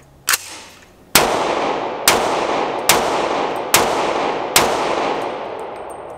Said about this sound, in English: So I'll load up our mag, unsuppressed, 300 blackout, subsonic rounds.